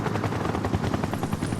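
A helicopter idles on the Gold Saucer landing pad in Final Fantasy VII Rebirth. Its rapid, steady rotor chop sits over a dense, loud whirring roar that carries on without a break, and no voices are heard.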